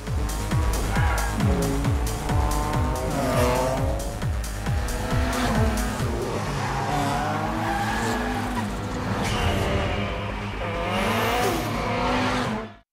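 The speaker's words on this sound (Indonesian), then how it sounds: "Di tengah balapan yang berlangsung epik" Race cars speeding through a film race scene: loud, close engines roaring and shifting pitch, with repeated sharp tire squeals and skids early on, then sustained high revving and whining as the cars push on, with no talking.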